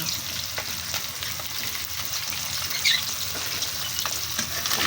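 Tilapia fries in hot cooking oil with a steady, close crackling sizzle, with faint clinks and occasional spatter bursts throughout and no talking.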